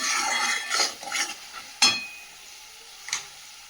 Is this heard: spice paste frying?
yes